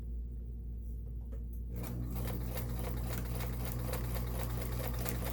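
A Kenmore 1802 sewing machine starts up after a quiet motor hum and stitches forward with a fast, even mechanical clatter, close and steady, with no talking over it.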